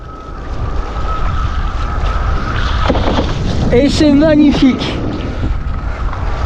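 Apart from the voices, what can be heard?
wind rising while windsurfing on IQfoil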